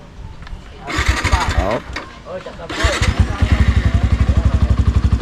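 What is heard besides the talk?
boat motor engine starting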